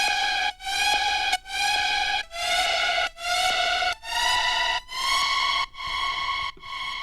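A synth lead preset from the Sounds of the Future sound bank playing a chillstep/EDM melody, bright and sustained with rich harmonics, sounding as a series of about eight long held notes separated by brief gaps, with no voices.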